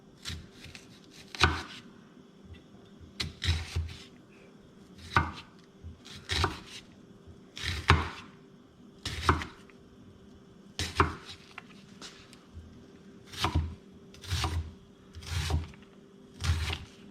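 An onion chopped with a knife on a cutting board in a kitchen: crisp, close knife strikes land in short bursts and single hits, spaced irregularly over several seconds, with no speech.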